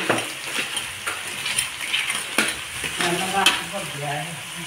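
Shrimp being stirred into a pan of frying crab and other seafood, a steady sizzle broken by repeated scraping strokes of a utensil against the pan, close and clear.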